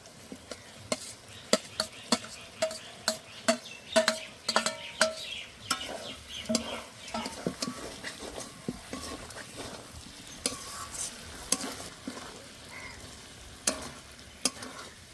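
Minced chicken and fried potatoes being stirred in a frying pan for chicken ghugni, with a steady sizzle under frequent sharp scrapes and clinks of a spatula against the pan, close and clear with no talking.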